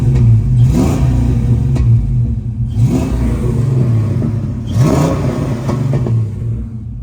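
A 1988 Ford Mustang with a five-speed gearbox revs up close and loud, climbing and falling three times over a steady idle rumble, with no talk.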